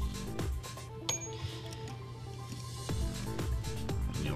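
Small 2mm Allen screws being removed from the fire control unit of an airsoft gun with a V12 mod selector plate give a few faint, scattered metallic clicks and clinks over a low background hum.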